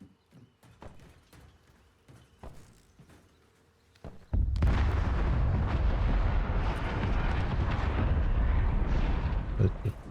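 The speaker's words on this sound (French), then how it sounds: "Ça tire fort vers là-bas." Heavy gunfire in the battle royale game Warzone, sparse sharp shots at first, then from about four seconds a dense, loud sustained roar of rapid firing and blasts that continues to the end.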